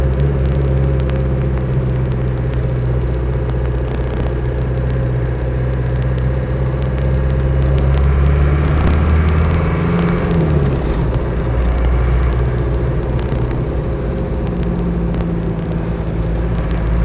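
A manual car accelerates hard, heard from inside as a loud, constant engine rumble that shifts in pitch around the middle.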